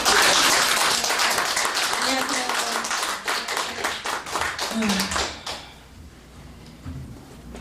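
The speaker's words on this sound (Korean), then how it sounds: "박수로 환영해 주십니다." Church congregation applauding to welcome a pastor giving a testimony: loud, dense clapping that fades out after about five seconds, followed by a brief spoken greeting.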